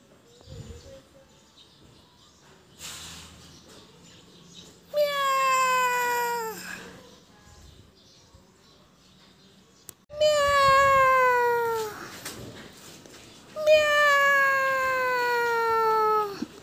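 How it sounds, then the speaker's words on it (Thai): A black cat gives three long, drawn-out meows, loud and close, separated by quiet pauses with faint background sounds. "black cat แมวสีดำค่ะเมียว"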